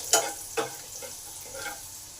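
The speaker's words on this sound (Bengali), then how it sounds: "আবার কিছুটা তেল দিলাম, কিছুটা জিরে দিলাম। জিরেটা একটু ভেজে নেব।" Cumin seeds fry in hot oil in a pan, a quiet sizzle broken by a few short stirring scrapes.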